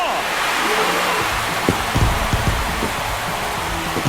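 Rain falls steadily on a baseball field during a Pittsburgh Pirates vs Detroit Tigers game, a dense hiss of noise with scattered thumps and crowd or broadcast sounds underneath.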